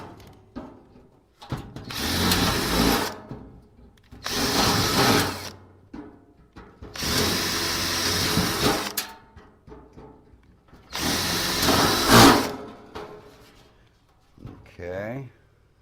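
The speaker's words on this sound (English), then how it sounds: "I'm going to drill every one of these 10 rivets out of the front right now. They're aluminum rivets." Aluminum rivets on a computer case drilled out with a 1/8 inch bit, four loud whirring bursts of a few seconds each with brief quiet gaps between them and a voice speaking briefly at the end.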